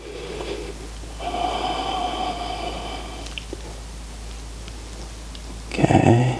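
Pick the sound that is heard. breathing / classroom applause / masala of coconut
breathing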